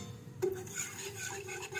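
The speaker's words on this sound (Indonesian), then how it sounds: "ini campuran gula dan susu akan kita masukkan campuran telur dan kita aduk rata, kita aduk cepat supaya tidak menggumpal" Egg mixture is stirred quickly into sugar and milk in a pot, making a soft continuous scraping and swishing with a faint clink of utensil on metal, close and quiet.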